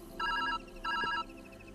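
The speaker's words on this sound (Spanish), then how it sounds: "Ah, mira, teléfono." Telephone ringing inside the video game Viewfinder: two clear electronic ring bursts, each lasting roughly a third of a second, separated by a short pause and heard alone over faint background hum.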